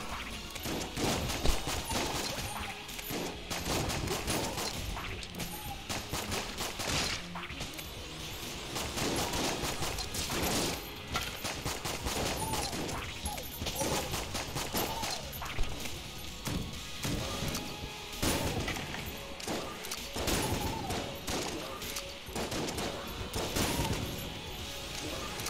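Rapid, dense gunfire from the main gun in the video game Enter the Gungeon pours out continuously for the whole stretch, loud bursts of shots mixed with impacts and crashes.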